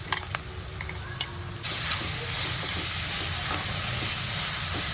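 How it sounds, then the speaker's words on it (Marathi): Onion and crushed green chili thecha sizzling in oil in a pan, a steady hiss with a few light stirring knocks early on, then the frying grows louder and denser and runs on without talk. "थोडासा परतून घ्यायचा दोन मिनटं"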